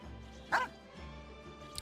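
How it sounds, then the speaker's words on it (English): A dog in the video game Genshin Impact gives a single short, sharp bark midway through, set against quiet game ambience. "Pavlov the drooling dog."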